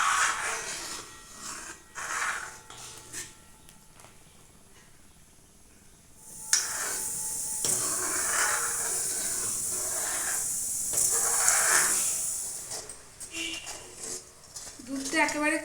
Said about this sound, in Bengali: দুধটা এইভাবে নেড়ে যেতে হবে, তা না হলে নিচে লেগে যেতে পারে কড়াইয়ের নিচে।